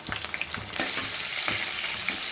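Crushed garlic and thinly cut curry leaves drop into hot oil for an Andhra-style dal tempering, so a light crackle jumps into a loud, steady sizzle that stays close and continuous, with no talking.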